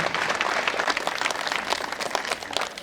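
Applause from a gathered audience at a Hindi religious sermon and blanket-and-food distribution event, steady dense clapping held at moderate, somewhat distant level throughout.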